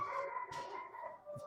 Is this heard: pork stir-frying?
no